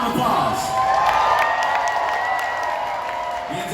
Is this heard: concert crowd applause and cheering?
yes